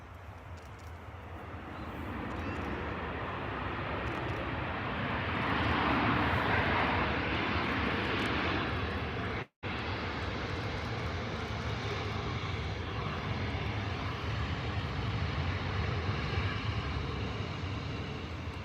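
An airliner descending to land at Manchester Airport roars steadily and loudly overhead, a broad sustained engine rush that swells slightly midway and holds on, with no talk.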